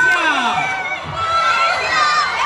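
A crowd at a live talk event for a music group screams and cheers excitedly, hoping to win signed limited-edition posters, a dense sustained roar of many high voices close by.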